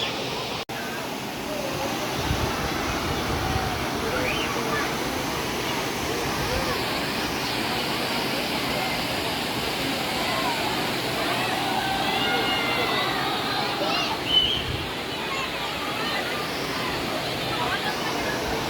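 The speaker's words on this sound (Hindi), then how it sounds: "और पानी बहुत ज़्यादा तेज़ बह रहा है यहाँ पे" Fast-flowing water of a waterfall beside a hidden dargah in rural Rajasthan roars in a constant, broad rush, with faint voices now and then beneath it.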